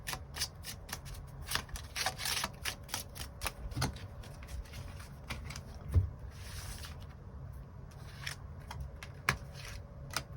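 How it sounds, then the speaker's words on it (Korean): Tarot cards are shuffled by hand, close up, giving a long run of quick riffling flutters and soft slaps with small pauses between bursts. "카드 뽑아보도록 하겠습니다."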